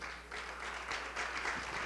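An audience at a panel event claps steadily for a couple of seconds, a soft, fairly distant patter of many hands with no voices over it.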